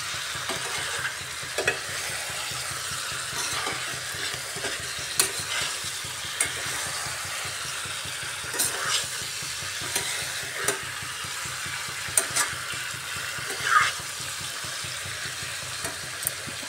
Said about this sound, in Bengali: ঢাকাটা সরিয়ে ভালোভাবে আবারও কষাতে হবে। চিকেন থেকে অনেক জুস বেরিয়েছে।